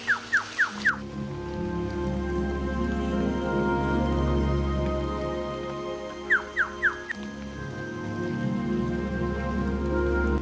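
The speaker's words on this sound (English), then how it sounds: "the delightful soundtrack of the pitter-patter as raindrops hit the leaves" Rain pattering on leaves high in a Queensland rainforest canopy along the Somerset Trail, a steady soft wash of drops heard alone, with a few quick chirping calls near the start and again after six seconds.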